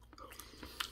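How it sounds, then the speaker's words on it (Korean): Tuna sashimi topped with wasabi being eaten, with soft close chewing and a few faint wet bites over about a second, quiet and near with no talk. "와사비 올린 거를 제가 좀 먹어보도록 하겠습니다"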